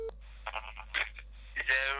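Telephone keypad dialing tones sound as short separate beeps between bursts of talk, close and fairly quiet.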